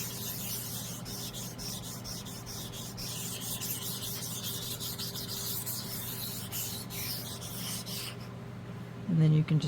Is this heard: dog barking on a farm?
no